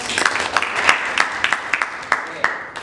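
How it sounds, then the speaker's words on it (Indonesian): Classroom applause for a student group that has just finished its presentation: a short burst of scattered hand claps, fairly close and uneven, with voices mixed underneath. "tepuk tangan untuk kelompok 2"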